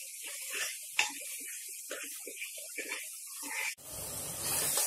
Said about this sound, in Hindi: अब हम प्याज के साथ अदरक लहसुन को भी 5 मिनट तक अच्छे से चलाते हुए